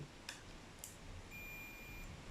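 A multimeter gives a few faint, short continuity beeps, two brief chirps followed by a longer thin tone, quiet against a low room hiss during work on a vehicle's fuel tank.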